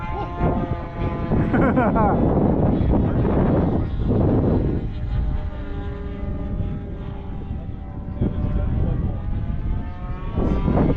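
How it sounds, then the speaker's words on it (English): Wind buffeting a microphone at a model airplane field, with a Great Planes Revolver and Tiger 2000 running OS FX60 glow engines, a steady droning roar with harmonic whine throughout, loud and continuous for the whole stretch. "Whoa, gust of wind."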